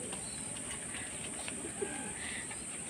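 Domestic pigeons coo softly and repeatedly near a feeding spot at home, with low throaty calls and occasional chirps over a steady background hum, and no talking.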